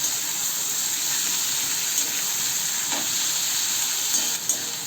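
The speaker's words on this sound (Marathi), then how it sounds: "त्यामध्ये टोमॅटो आणि सगळं फास्ट गॅसवर परतू दे." Tomatoes and onion sautéing over a high flame for shahi chole paneer pulao, a dense even sizzle with faint stirring scrapes and a couple of light clinks near the end, close and free of speech.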